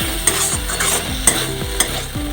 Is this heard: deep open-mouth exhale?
no